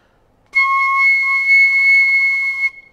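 A single sustained piccolo note is played with a smiling embouchure, bright and whistle-like, holding for about two seconds before stopping cleanly, alone in a quiet room.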